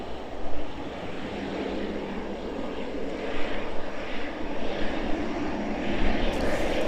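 An airliner taxis off runway 27 at East Midlands Airport in the evening, its jet engines a loud, steady, roaring rush that swells slightly in waves throughout.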